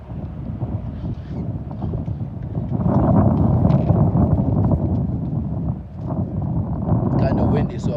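Low, rumbling wind buffets the microphone at a campsite throughout, swelling louder midway, with voices talking faintly underneath.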